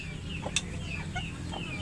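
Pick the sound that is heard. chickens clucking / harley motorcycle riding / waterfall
chickens clucking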